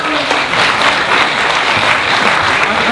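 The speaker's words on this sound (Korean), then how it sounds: "박수로 환영해주시죠." A crowd at a book concert talk show welcomes a guest with loud, close, dense applause that stays strong and even throughout.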